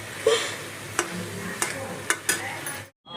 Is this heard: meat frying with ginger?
yes